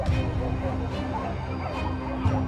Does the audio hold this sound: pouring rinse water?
no